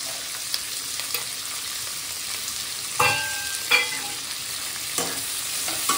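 Chopped onion, ginger and garlic frying in a pan give off a steady hiss, broken by a few sharp scraping stirs and spatula knocks, close and unaccompanied by talk.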